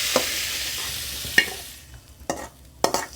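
A spatula scrapes a pan in a few sharp strokes, slowly stirring paneer, while a soft sizzle hisses underneath, close and fairly quiet.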